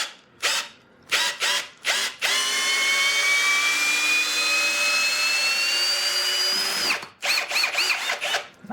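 A Ridgid brushless hammer drill whines loudly for several seconds as it drives a 3-inch screw, with short bursts of drilling before and after, close up.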